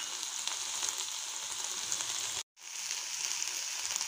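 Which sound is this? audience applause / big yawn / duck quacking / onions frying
onions frying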